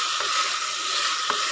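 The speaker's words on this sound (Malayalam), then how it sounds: "പൊട്ടറ്റോ എല്ലാം ഇത് ചെറുതായിട്ടൊന്ന് വഴറ്റി കൊടുക്കാം." Potatoes sauté in a pan for a crispy potato fry, giving a steady, bright hiss of sizzling oil with a couple of soft stirring knocks and no voices.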